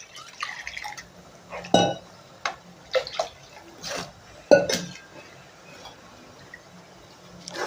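Water is poured into cooking masala in a pan while making Saidapet-style vada curry, heard as a few short splashing and trickling bursts with scattered clinks of a vessel against the pan, separated by quiet gaps.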